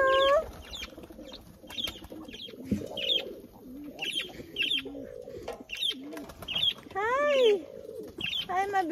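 Farm birds cooing and chirping close by, several short calls and coos scattered across the clip, with a voice briefly heard among them.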